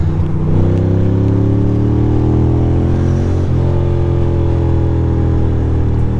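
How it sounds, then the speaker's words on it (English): A car accelerates hard past the listener on a New York City street between Greenpoint and Red Hook, its engine roaring loud and steady over about six seconds with a rising pitch and a brief shift midway. "That car is really in a hurry."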